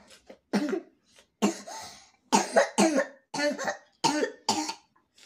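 Repeated harsh coughing fits, close by, coming in bursts of two or three coughs with short pauses between them.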